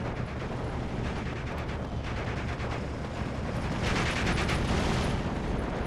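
Mortar and small-arms fire in the Steel Division 2 wargame rumble as a dense, distant barrage, with muffled thumps and crackle running throughout and swelling slightly near the end.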